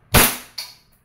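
A WE 2011 Hi-Capa T-Rex gas airsoft pistol fires one sharp, loud crack, followed by a second fainter pop about half a second later, with no talk.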